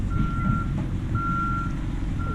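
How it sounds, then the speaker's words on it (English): Reversing beeps from a truck in a village traffic jam, three evenly spaced electronic beeps over a loud rumbling engine idle. "Some traffic jam. Local traffic jam in the local village."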